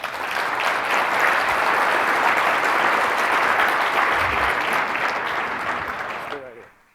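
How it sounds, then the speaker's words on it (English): Sustained audience applause following a keynote speech at the Affiliate Summit West 2014 conference, a dense steady wash of clapping from a large crowd that holds for about six seconds and then quickly dies away. "Big round of applause for Derek."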